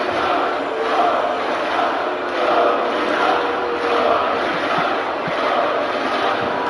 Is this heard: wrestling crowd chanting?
yes